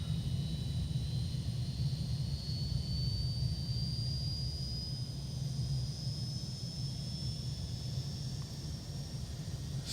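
An MD80's JT8D jet engine in a flight simulator spins up, a low rumble under a thin whine that rises slowly in pitch over several seconds, steady and without talk.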